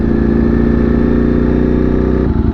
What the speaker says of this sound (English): The Buddy 50, I think those are 2-strokes.